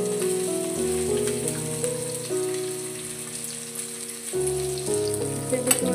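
Chopped onion fries in a pan for an aloo palak sabzi, a steady sizzle lying under louder background music that dominates throughout.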